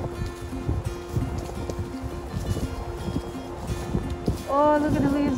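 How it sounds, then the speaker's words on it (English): Strong wind buffets and rumbles continuously along a ginkgo-lined road in Asan, South Korea, blowing leaves about while people talk nearby. "Oh my goodness, it's windy."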